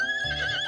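Horse neighing in an animated doll story, a short, bright whinny with a wavering pitch, close and clear with no talk over it.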